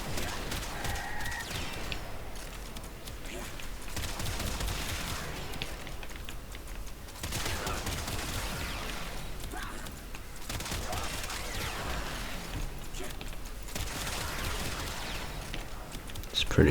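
The Felarx weapon firing in Warframe at a Corrupted Heavy Gunner Eximus, bursts of rapid blasts and explosive impacts repeating in waves alongside game effects.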